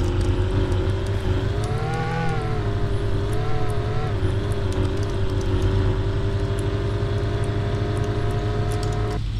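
A car in a video game drives steadily toward an office, its engine holding a continuous loud drone with slight pitch rises and falls and no voices over it.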